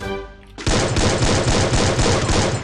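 Dense, loud automatic gunfire in the mobile shooter game Free Fire, a sustained close burst of rapid shots that cuts in abruptly after a brief musical tone and continues without a break.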